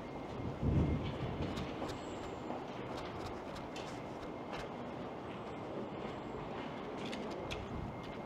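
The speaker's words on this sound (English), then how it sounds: "Trains rolling by, but I don't think we're going to be able to see it." A steady broadband rumble of an express train rolling past at a distance in Toronto's Liberty Village, with faint rhythmic clicks and a louder thump near the start.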